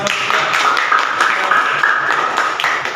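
A classroom of students claps together for a group of classmates, a dense, steady patter of many hands filling the room from start to finish.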